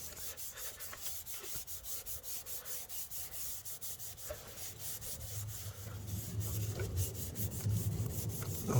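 A cloth loaded with aluminium polish rubs back and forth over an Akrapovic motorcycle exhaust, making a soft, continuous rhythmic scrubbing that grows slightly louder and heavier toward the end.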